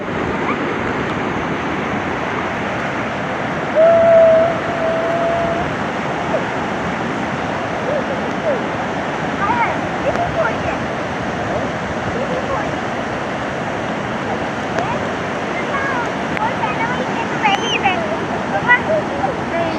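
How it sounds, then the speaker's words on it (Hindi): Steady broadband wash of surf rolling in continuously at Sea View beach, with people talking faintly over the rushing water. "पानी आ रहा है, पानी आ रहा है"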